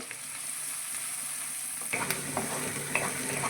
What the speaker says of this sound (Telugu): ఉల్లిపాయ ముక్కలు పచ్చిమిరపకాయ ముక్కలు వేస్తున్నాను వేయించేసుకుంటానండి